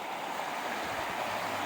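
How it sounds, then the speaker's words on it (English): A small creek between Herkimer diamond mines flows steadily, an even, close rushing and gurgling of water with no pauses or voices. "little creek that separates Herkimer Mine 1 and Mine 2."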